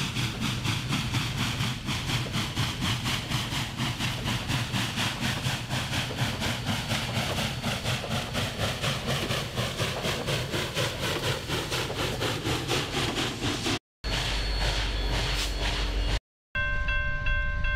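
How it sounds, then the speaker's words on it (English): In Snowrunner, the Power Chug truck's engine chuffs under load while pulling a heavy trailer, a steady, dense mechanical drone that runs throughout with two brief cuts near the end. "Because its chuffing is almost silent right here."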